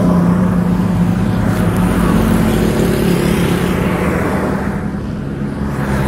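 Loud, steady roar of vehicles rushing past nearby, an engine drone swelling and fading with no voices.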